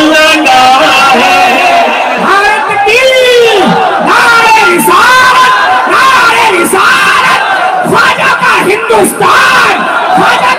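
A large crowd at an Eid Milad-un-Nabi rally in Agra chants religious slogans in loud, rhythmic call-and-response bursts, with many voices roaring together up close.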